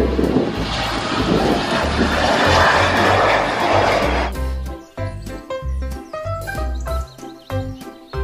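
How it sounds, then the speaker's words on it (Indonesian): A loud, steady roaring rush like a jet engine, a toy airplane sound effect, fills the first four seconds, then gives way to bright, rhythmic electronic music. "Pesawat terbang."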